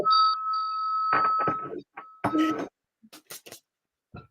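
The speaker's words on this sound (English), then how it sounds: "Her bell's loud." A loud hand bell rings clearly with a sustained bright tone at the start, followed by a few shorter jingles and rattles as it is shaken, then quiet.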